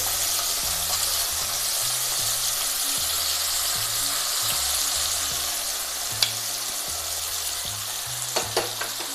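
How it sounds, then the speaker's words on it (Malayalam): Brinjal slices fry in coconut oil with a steady, close sizzle throughout, over a low rhythmic hum, with a few sharp clinks of a utensil near the end. "വഴുതനങ്ങ ഫ്രൈ ആയിട്ടുണ്ട്"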